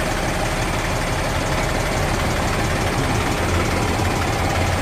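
A 1999 TAFE 30 DI diesel tractor idles nearby with a steady, loud, low chugging knock and vibration that runs unbroken, with no voices over it.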